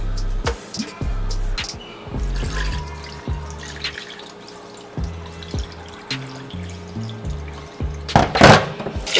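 Rice being washed by hand in a bowl of water at a kitchen sink, with close, loud drips, splashes and sloshing. Low, rhythmic clunks run through it and a louder burst of splashing comes near the end.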